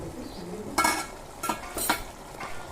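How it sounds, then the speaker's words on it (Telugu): Chicken in a salt and chili powder gravy stirred in a pot while cooking, a few scraping stirring strokes over a soft simmering bubble, close and alone. "ఉప్పు కారం వేసుకున్న తర్వాత ఇలా గ్రేవీగా ఉడుకుతుంది కదా"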